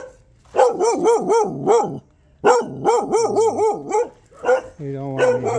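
A dog barks in two bursts of rapid, rhythmic, yelping barks, fairly close and loud, with a short pause between the bursts and a low whine or growl near the end.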